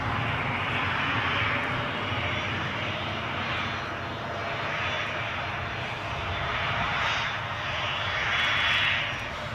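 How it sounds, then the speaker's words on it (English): An Ascend Airways airliner comes in to land at Newcastle International Airport, its engines a steady, loud roar that swells gently and fades across the scene. "that will be Ascend Airways coming into Newcastle"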